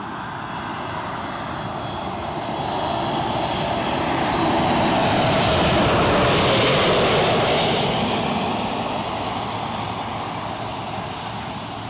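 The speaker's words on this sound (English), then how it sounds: "is that a plane coming in?" A Ryanair passenger jet arriving at Newcastle airport roars past, its engine noise swelling to a loud peak midway and fading again, a broad continuous rush with a high whine.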